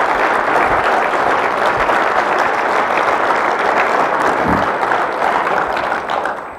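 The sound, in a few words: summit audience applause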